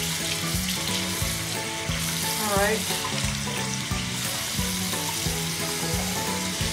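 Tap water runs steadily while a hairless skinny pig is bathed, with a continuous splashing hiss and a brief spoken word near the start.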